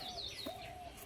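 A red pigeon kept for sale gives a brief soft coo amid faint chirps from other birds, quiet and close, with no talking.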